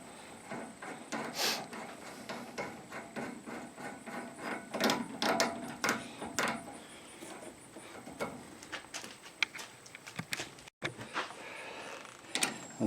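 Socket ratchet clicking in short repeated bursts while tightening a strut bolt on a 1997 Suzuki Sidekick, using a cracked 13/16 socket; close, mechanical ratcheting with metallic taps and handling noise, no talking.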